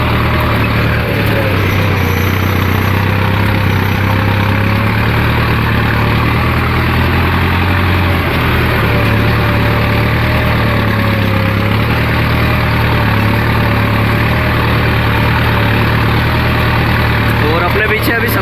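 A tractor engine idles and runs steadily close by in a soybean field, a loud constant low drone with a faint wavering whine, while someone talks over it throughout.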